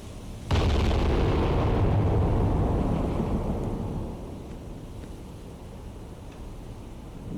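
Shells striking a Kiev-class target ship in the submarine game Cold Waters, a sudden heavy boom that swells into a long deep rumble, then fades to a steady low roar, with no talk.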